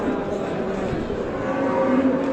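A cow lows in a long, drawn-out call at a busy Saturday livestock market in Ghulakandoz, with the murmur of the crowd and other animals around it.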